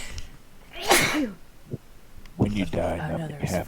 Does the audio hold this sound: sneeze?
yes